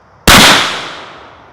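A black powder muzzleloader fires once at an outdoor target range, a single loud, sharp blast with a long booming tail that fades over about a second, heard alone.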